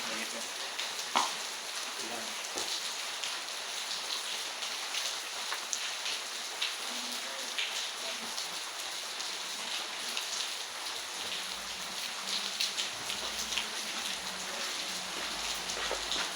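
Steady rainfall hisses continuously on a wet morning during a low pressure area, an even, close wash of drops with no breaks.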